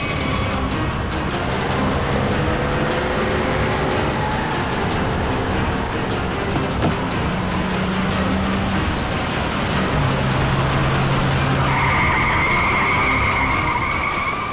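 A car speeds away with tyres skidding and squealing, engine roaring underneath, the screech rising and shifting pitch in several drawn-out bursts over continuous road noise.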